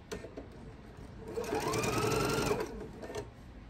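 A sewing machine stitches quilt block pieces, its motor whirring in a steady run of about a second before stopping, with lighter clicks of handling around it and no talk.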